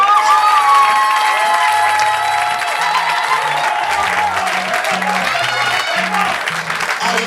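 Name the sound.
church congregation applauding and cheering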